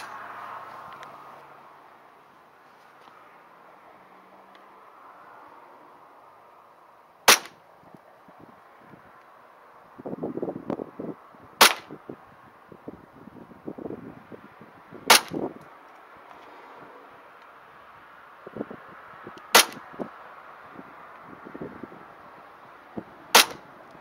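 Sharp, isolated shots from a WE Toucan Smith & Wesson M&P gas blowback airsoft pistol, five cracks spaced a few seconds apart with faint handling clatter in between.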